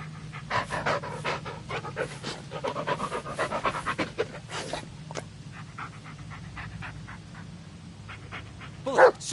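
Dog Bullet in the Blair Witch game pants in quick, rhythmic breaths close by, with a few soft whimpers and a short yip near the end.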